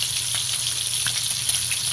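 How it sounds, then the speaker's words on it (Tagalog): Pork chop and milkfish fry in a pan with a steady, close sizzle and fine crackling spatter that runs on without a break. "nagprito na po ako ng pork chop at saka po tabak na bangus"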